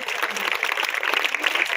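An audience applauds loudly at a public event, a dense steady patter of clapping filling the short moment.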